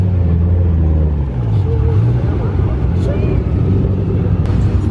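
Cars at a car meet, among them a Dodge Hellcat, rumble past while driving out for runs, a steady low engine drone close by with a brief revving swell midway.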